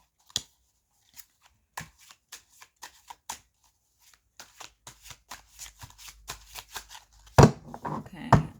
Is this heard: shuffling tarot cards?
yes